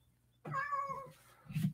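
A cat gives one drawn-out meow up close, followed by a short, lower chirp.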